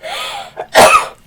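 A single person sneezes loudly and close, a short inhale followed by a sharp explosive burst, with no talk.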